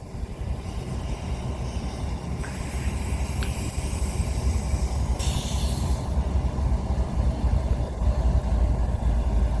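A heavy CN intermodal freight train rumbles past up close at the Sarnia VIA station, with a steady, loud roar of wheels and cars and brief bursts of high metallic hiss.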